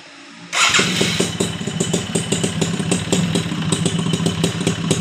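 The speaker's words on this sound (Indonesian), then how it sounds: "suara knalpotnya masih garing gitu, masih oke banget" A Suzuki Tornado GX motorcycle engine starts abruptly and settles into a loud, close idle with a steady, crisp exhaust putter and light mechanical clatter, with no voices.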